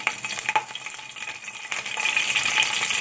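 Curry leaves dropped into hot ghee in a pan, crackling and sizzling with bright spattering pops over a steady frying hiss, close and moderately loud, building toward the end.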